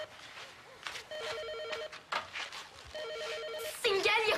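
A telephone bell rings in two repeated bursts, loud and close, alternating with people talking excitedly indoors.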